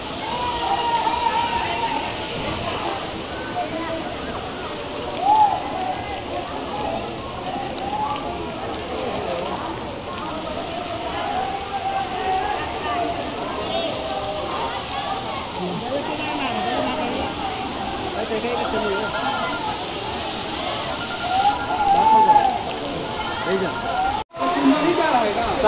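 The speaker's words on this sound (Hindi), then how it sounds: "ये देख लो, यही झरना है, ऊपर से जो है पानी आ रहा है।" Kakolat waterfall in Bihar sends water pouring down from above in a constant rushing roar, with people talking over the steady falling water.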